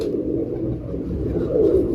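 Several pigeons of a prized breed coo together nearby in a low, continuous murmuring burble that swells slightly toward the end, with no talking over it.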